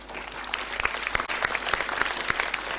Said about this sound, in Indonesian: tepuk tangan yang meriah untuk pilihan Anda pemirsa